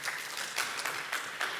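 A small audience in a meeting room gives a short, faint burst of applause, a few uneven clusters of claps rising and falling.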